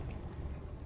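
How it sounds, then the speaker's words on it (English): Low, steady engine rumble drones continuously with a watery, boat-like wash, fairly faint and unbroken. "You can hear riveting engine noise."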